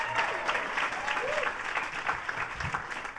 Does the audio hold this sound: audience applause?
yes